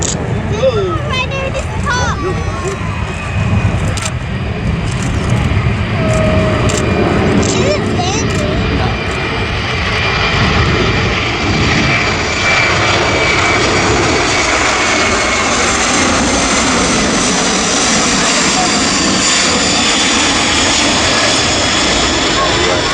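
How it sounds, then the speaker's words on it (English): A Boeing C-17 military transport jet flies past at an airshow, its engines building into a loud broad roar that holds steady, with crowd chatter and children's voices underneath early on. "the giant C-17 from the south"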